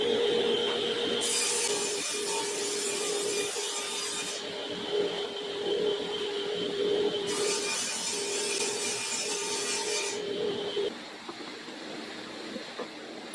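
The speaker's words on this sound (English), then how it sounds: "here we cut our panels to width" A saw cuts wooden panels to width in a workshop, with two long, steady bursts of high-pitched cutting noise over a continuous machine hum, close and loud.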